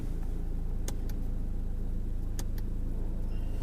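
A Mitsubishi Evo X engine drones steadily under acceleration, a continuous low rumble with a couple of brief sharp clicks, and no voices are heard.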